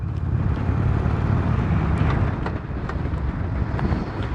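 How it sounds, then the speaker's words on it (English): Harley-Davidson Sportster Iron 883 motorcycle riding and running up through its five gears, a loud steady engine rumble with wind buffeting the microphone and a brief dip at a shift. "we're going to go through all the gears here today, which the Sportster has 5 gears"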